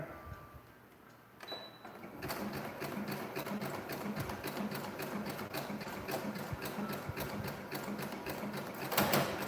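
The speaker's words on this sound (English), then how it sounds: "I'm going to sew this over twice." A sewing machine stitches fabric for a surgical mask in a steady, rapid mechanical rattle for several seconds, close by, after a brief quieter moment at the start.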